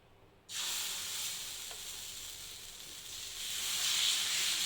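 Dosa batter hits a hot pan and bursts into a steady, close sizzle that swells slightly and keeps hissing without a break.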